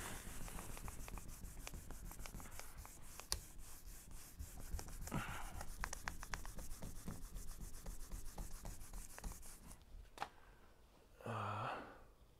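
Hand sanding away primer runs along the accent line of a truck body panel, a steady close rasping rub that continues for most of the time, then stops near the end.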